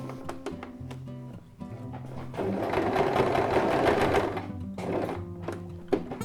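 Sewing machine stitching a seam on a reversible placemat, running in short bursts at first, then a sustained steady whir through the middle, with brief backstitch runs and mechanical clicks toward the end.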